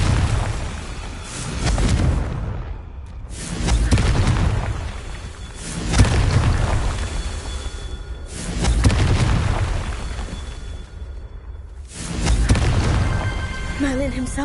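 Repeated heavy booms from a Confringo fire spell in a wizarding video game, four or five deep blasts each swelling and fading over a couple of seconds with brief gaps between, a voice speaking amid them.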